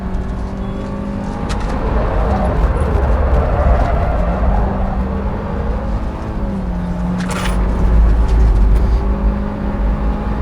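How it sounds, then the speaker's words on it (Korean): A 2018 Kia K3 drives hard around a circuit with the accelerator held flat to the floor. It gives a loud, steady engine drone with road and wind roar from inside the cabin that swells slightly toward the end. "지금도 악셀레이터 계속 풀로 지금 밟고 있는 상태로"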